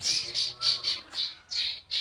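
A bird gives a rapid series of short, harsh squawks, fairly faint, repeating in quick bursts with brief gaps between.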